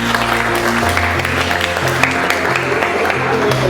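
An audience bursts into loud, sustained applause in a Hindi-speaking gathering, an even wash of clapping over a low steady tonal hum in the background.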